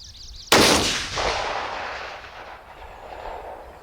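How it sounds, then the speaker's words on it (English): A single loud rifle shot fired at a target during scope testing, a sharp crack followed by a long rolling echo that decays over a few seconds outdoors. "let's go ahead and let her rip here and see how close this first shot is"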